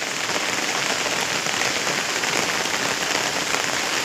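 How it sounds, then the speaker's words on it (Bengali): Rain falls steadily on a rooftop garden of potted plants, a dense, close hiss of drops on surfaces that holds an even loudness throughout, with no voices. "দেখুন এখনও বৃষ্টি পড়ছে"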